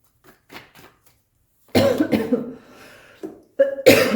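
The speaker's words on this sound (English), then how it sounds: "Sorry for the cough." Someone coughs during a tarot card reading, first with a few faint hacks and then with two loud, harsh fits close to the microphone, with no talk.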